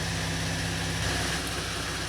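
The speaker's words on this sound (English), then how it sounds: "I could hear the engine stumbling" A 2015 Chevy Camaro's 3.6L V6 idles steadily with a low, continuous engine drone and slight unevenness, heard close and alone without talk.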